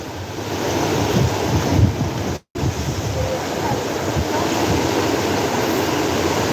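Ocean surf washes continuously onto a beach in Puerto Rico while gusty wind buffets the microphone, loud and close, with a brief dropout in the middle.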